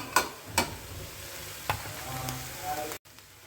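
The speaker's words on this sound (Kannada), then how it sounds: "ಇವಾಗ ಇದಕ್ಕೆ ಒಂದು ಅರ್ಧ ಕಪ್ ಆಗೋಷ್ಟು ತೆಂಗಿನ ತುರಿ ಹಾಕ್ತಾ ಇದ್ದೀನಿ ನಾನು" Grated coconut stirred into wilted greens in a hot pan for a spring chutney, giving a steady soft sizzle with a few sharp spoon scrapes and clinks against the pan, close and alone.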